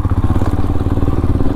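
A Himalayan 411 motorcycle slides along a village road in Kalikhola, its engine throbbing loud and close in a fast, steady thumping rhythm with a rough, crackling edge.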